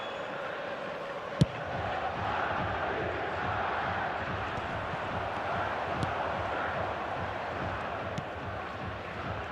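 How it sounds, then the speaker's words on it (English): Stadium crowd noise from a football video game, a steady dense roar of restless, impatient spectators that holds throughout, with a few brief sharp clicks standing out above it. "the crowd's impatience is an indicator that they haven't quite given up on a goal just yet"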